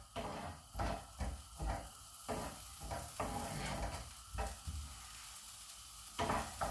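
Mixed vegetables sautéing in a pan with quinoa and tofu: a soft sizzle broken by repeated rhythmic stirring strokes and spatula scrapes, near and fairly quiet, with no talking.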